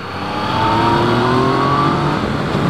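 A Yamaha MT-09 motorcycle engine drones steadily while being ridden, loud and close, its pitch rising slightly as the bike pulls forward over wind rush.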